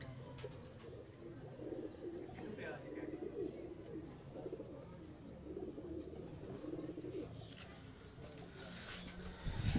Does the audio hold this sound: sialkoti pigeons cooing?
yes